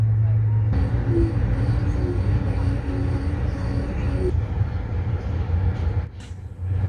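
Amtrak Pennsylvanian passenger train arriving at Lancaster station, heard from inside an eastbound coach: a steady low rumble of wheels and carriage with a faint tonal whine, easing near the end.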